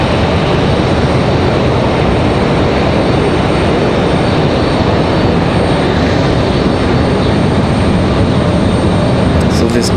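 A Delta jet airliner holds on the ground at Raleigh-Durham airport awaiting its gate, its engines producing a loud, constant broadband roar that fills the whole stretch without pause.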